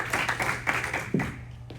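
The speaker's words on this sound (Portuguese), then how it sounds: "Uma salva de palmas aqui para os meus discípulos." A church audience gives a short round of hand clapping during a sermon, with quick uneven claps that taper off within about two seconds.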